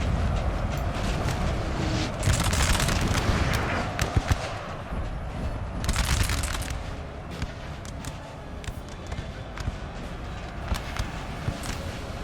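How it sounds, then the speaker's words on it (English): Musket volleys crackle across a Napoleon: Total War battlefield, with repeated loud bursts of massed gunfire and booming over a constant roar of battle, no voices. "I think they're definitely shooting some of their own troops."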